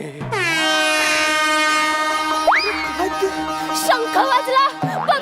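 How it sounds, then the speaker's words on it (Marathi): A conch shell blown during a stage comedy sketch gives one long, loud, sustained horn-like blast, fading out as several voices start talking over it. "बघा बघा शंख वाजला"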